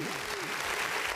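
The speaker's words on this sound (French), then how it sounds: "Applaudissements pour Ferké, s'il vous plaît." Short burst of audience applause on a comedy show, steady clapping from a crowd with voices audible beneath it.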